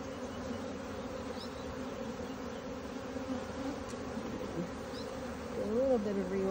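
Honeybees drone in a steady, dense buzz throughout a hive inspection, holding near and even in level, with a faint voice briefly rising under the swarm toward the end.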